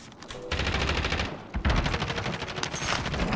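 Call of Duty Warzone gunfire rattles in steady, rapid automatic bursts at moderate volume, with one brief gap halfway before the firing resumes just as densely.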